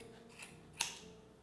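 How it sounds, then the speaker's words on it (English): Two quick, quiet snips of scissors cutting yarn close by, a soft one followed by a sharper cut, with nothing else heard. "I just stick my scissors in and"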